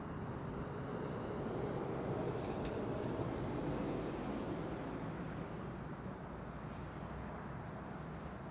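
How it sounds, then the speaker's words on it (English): A Boeing 737 rolls down the runway and takes off at Amsterdam Schiphol, a faint, steady distant engine roar with a gentle swell, heard alone without speech. "The 737 is rolling and taking off."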